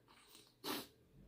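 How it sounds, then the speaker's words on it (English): A single short, sharp sneeze bursts out mid-clip, brief and fairly close, with quiet breathing around it. "I'm gonna sneeze."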